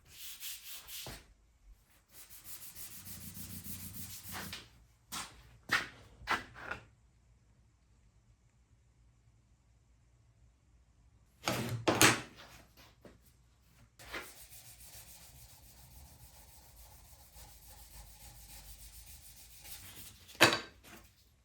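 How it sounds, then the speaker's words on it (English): Hand sanding a drop point knife blade with 400 grit sandpaper, several bursts of dry rubbing strokes separated by quiet pauses, close and fairly soft. "I've had it with sanding. I finished sanding it with the 400"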